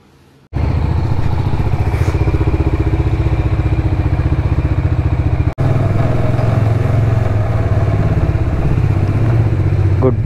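A Hero Xpulse motorcycle engine runs steadily and loudly close up, a continuous mid-pitched thrum with a brief cut near the middle before resuming, with no voices.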